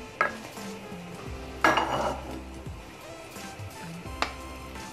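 A spoon scrapes and clinks in a pot of thick béchamel sauce as roasted eggplant is stirred in, with a few sharp metallic knocks over a low hum and background music.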